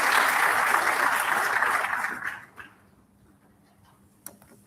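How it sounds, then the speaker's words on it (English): Round of applause for Dr. Duma at a waste innovation challenge launch event, a full crowd clapping loudly that dies away after a couple of seconds, leaving a quiet room with a few stray sounds. "Let's give Dr. Duma another round of applause."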